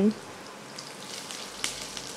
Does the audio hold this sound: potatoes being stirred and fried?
yes